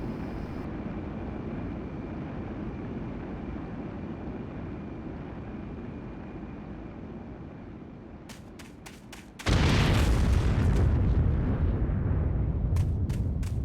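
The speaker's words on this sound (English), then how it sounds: "the egg carrier is about to explode, and they're about to crash" Egg Carrier blowing up in Sonic the Hedgehog (2006): a steady rumbling roar builds for several seconds, then a loud, broad explosive blast bursts in and keeps roaring, with sharp crackling bursts around it.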